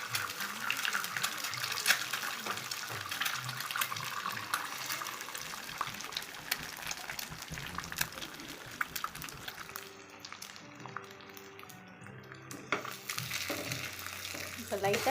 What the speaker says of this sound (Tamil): எண்ணெய் காஞ்சதும் ஒரு முட்டையை நம்ம பொரித்து எடுத்துக்கலாம்